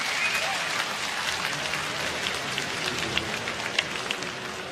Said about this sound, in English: brings a round of applause from the crowd.